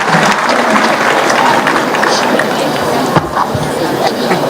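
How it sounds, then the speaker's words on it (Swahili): A graduation ceremony crowd gives the President sustained, loud applause, a dense wash of clapping that carries through without pause. "a round of applause to His Excellency the President, please"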